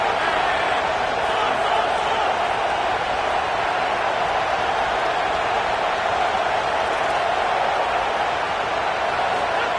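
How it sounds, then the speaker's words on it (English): A college football stadium crowd at the OU vs Texas Tech game roars on third and four, a loud, steady, unbroken wash of noise that holds level throughout, with faint talk in the mix. "the noise from this crowd on 3rd and 4"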